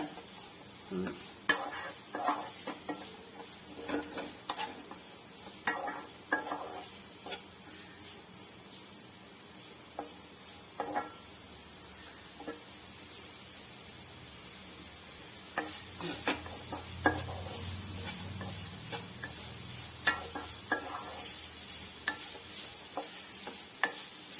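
Grated carrot sautés in ghee for carrot payasam, a soft sizzle under repeated scraping strokes of a spoon against the pan, irregular and close, with no talking.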